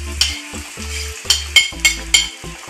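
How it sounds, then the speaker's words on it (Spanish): Squid fries in a paella pan with garlic cloves that have already been browned. A loud, close sizzle carries several sharp metallic scrapes and clinks from a utensil moving the pieces around, with no talking. "le vamos a freír el calamar también"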